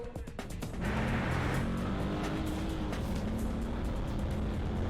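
Security patrol vehicle swinging through a U-turn during a night chase after a break-in, engine and tyre noise rising steadily and staying loud and close throughout.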